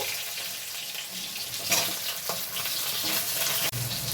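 Potato and tomato pieces dropped into a hot frying pan for a fish-head and cabbage curry, giving a steady close sizzle with brief stirring scrapes and a sharp knock near the end.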